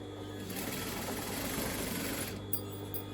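A sewing machine stitches a seam in a crushed polyester velvet skirt, running as a steady, continuous mechanical whir close to the microphone before easing off near the end.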